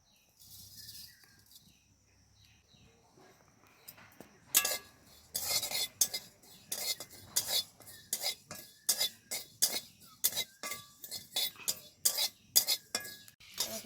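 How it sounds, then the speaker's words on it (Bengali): Whole cumin seeds dry-roast in a pan with faint rustling at first, then a utensil scrapes and clinks against the metal in quick, regular stirring strokes, close and fairly loud. "গোটা জিরেটা শুকনো খোলায় ভেজে নেব"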